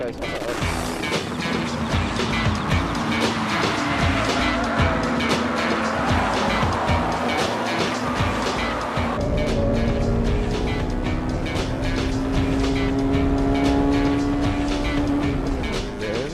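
A Honda Civic Type R race car screams around a track with engine revving through gear changes, other race cars such as an Integra and an Altezza nearby, a sustained loud high-pitched drone with a rising tone in the later part.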